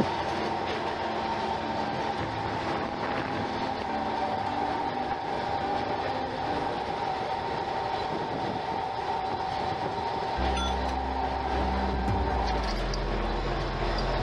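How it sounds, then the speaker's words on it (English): A steady electric DC motor whine hums over the rumble of an old Kolkata tram pulling away, with a deep low-frequency surge building near the end. "The typical whine of the DC motor kicks in as the tram takes off again"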